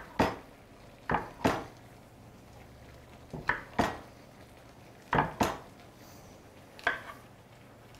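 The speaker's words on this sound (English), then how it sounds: "with the mushrooms, I'm just going to quarter them because I don't want them sliced right through" A knife quarters mushrooms on a chopping board, giving about a dozen crisp knocks in loose pairs and small clusters, close and fairly quiet with no voices.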